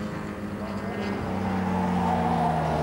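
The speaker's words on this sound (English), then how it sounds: "Just lapping Nick Savage's little yellow Alfa Giulietta TZ." Vintage racing cars lapping at Goodwood, including a small yellow Alfa Giulietta TZ, heard as a fairly faint engine drone that gradually rises in pitch and level as the cars pass, with no voices.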